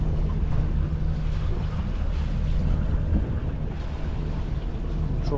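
A sailboat motoring and sailing together on the Corfu delivery passage as the wind dies, a steady engine drone with wash and wind rumble filling the whole stretch at a constant level, no voices.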